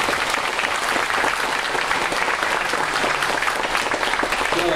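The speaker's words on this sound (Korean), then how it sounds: "격려 박수를 한번 보내주시겠습니다" A lecture-hall audience at a Korean public talk applauds in encouragement, steady dense clapping that fills the whole stretch at even loudness with no voices over it.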